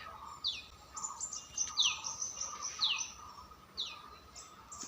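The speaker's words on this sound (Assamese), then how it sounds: "কুলিয়ে মাতি আছে" A koel calls repeatedly in the evening on Bihu day, its sharp, sliding notes coming every second or so from a moderate distance over a faint outdoor background.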